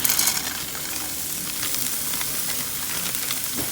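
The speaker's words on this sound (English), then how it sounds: "I'm going to fry some mushrooms and onions in the meantime to add to the savory rice" Mushrooms and onions sizzle in a frying pan with a steady, close crackling hiss, slightly louder at the start, with no talking over it.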